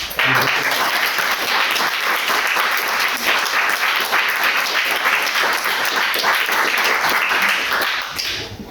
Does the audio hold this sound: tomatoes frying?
no